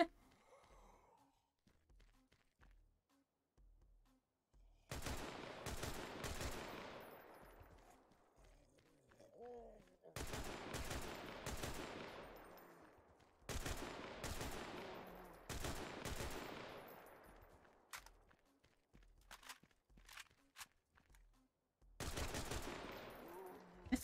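Video game shotgun blasts, sharp loud booms spaced a few seconds apart with short decaying tails, separated by near-silent gaps with faint movement sounds.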